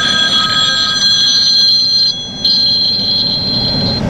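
A phone call rings through a LAMTTO RC06 smart screen installed in a RAM truck: a steady, high electronic ring tone with a brief break in the middle, over a low cabin hum.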